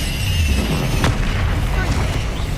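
A booming Bombarda explosion spell in Hogwarts Legacy, a heavy sustained low roar with a sharp crack partway through, loud and close, with no talking over it.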